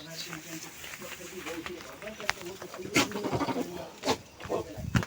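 Goats bleat repeatedly in short wavering calls among people talking nearby, as the animals are looked over before slaughter at the Dashain festival.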